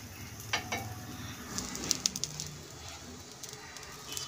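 A gobi paratha fries in ghee on a pan with a low, steady sizzle, broken by a few faint scrapes and light clinks from the utensil.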